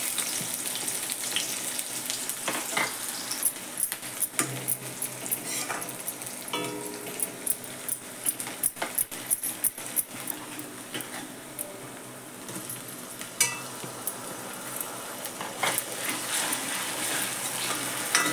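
Chopped onion hitting hot oil with star anise, cinnamon pieces, cloves and black pepper, a loud dense sizzle with sharp crackling spits and pops throughout, steady and close, no voices.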